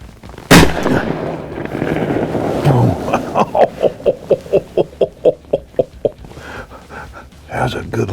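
A single loud shotgun blast fired at flying ducks during a hunt, followed by a rapid run of rhythmic splashing or flapping pulses, with people talking nearby.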